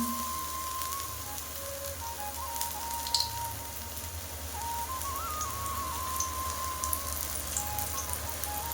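Stuffed pointed gourd (kakrol) frying in oil on a low flame, a steady soft even sizzle like light rain, continuous and close.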